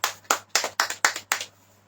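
Church congregation clapping together during a Hindi-language Christian service, six sharp, evenly spaced claps in a steady rhythm with slight reverb, then the hall falls quiet.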